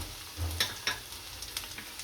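Chopped vegetables sizzle softly in a pan while Maggi is cooked, with a few light stirring clinks and scrapes over a quiet, steady fry and no talk.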